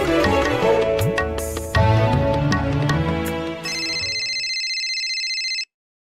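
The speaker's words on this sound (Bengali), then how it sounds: "বোধহয় আরশির ফোন এসছে।" A mobile phone ringtone rings out loud and close, a busy musical tune that shifts into a steady sustained electronic tone before stopping abruptly near the end.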